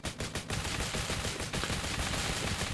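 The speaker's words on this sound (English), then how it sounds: "Maybe I do want to shoot this guy a bit more." Dense, continuous gunfire in the zombie survival shooter game Nearly Dead, rapid overlapping shots at a steady loud level with no talking.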